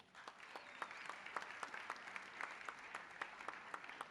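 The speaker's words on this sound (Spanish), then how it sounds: "pido de ustedes un fuerte aplauso" Audience applause at a university gathering on communications and sport, a steady patter of many hands clapping throughout, fairly quiet and somewhat distant, with no voices over it.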